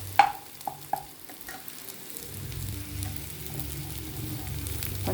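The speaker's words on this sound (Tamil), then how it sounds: "இந்த சோம்பு பொடியை கொஞ்சம் நடுவில் எண்ணெய் ஊற்றி இப்படி போட்டு அதோட லேசாக அப்படி பரட்டிடுங்க" Fennel powder fries in oil with onions as it is stirred for chicken uppu kari: a few sharp spoon clinks at first, then a low steady sizzle and soft stirring scrapes that grow slightly louder, no talk.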